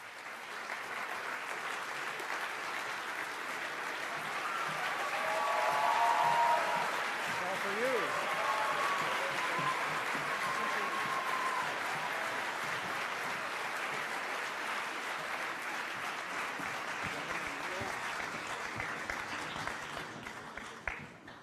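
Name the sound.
audience applause welcoming speakers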